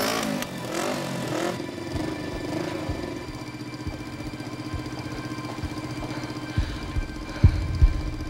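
A high-pitched, motorcycle-like engine tone used as a drama sound effect opens with a brief burst of noise and then settles into a sustained, whining drone, with a few dull thumps near the end.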